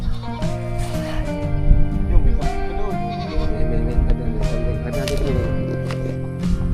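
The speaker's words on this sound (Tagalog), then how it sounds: "Yung kambing." A goat bleats several times close by, wavering calls over a busy, noisy background with occasional voices.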